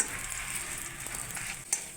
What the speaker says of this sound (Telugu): వేగిపోయింది మిరపకాయలు నల్ల కాకూడదు